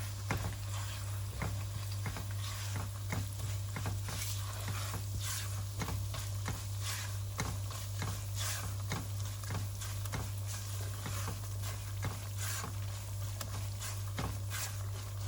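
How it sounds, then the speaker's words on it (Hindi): Semolina roasting in melted ghee in a pan, stirred with a steady soft sizzle and a regular run of scraping spoon strokes, close and fairly quiet, with a low hum underneath. "अब हम इसमें ये डाल देते हैं सूजी और इसको अच्छी तरह भूनते हैं"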